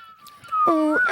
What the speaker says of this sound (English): Do you blow out whistle or suck it in?